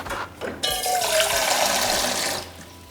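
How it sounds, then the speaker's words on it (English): Water is poured into the top of a countertop water filter in a Mexico City apartment kitchen, a steady splashing, gurgling stream that starts abruptly and runs for about two seconds before tapering off. "So what you do is you put water into the top here."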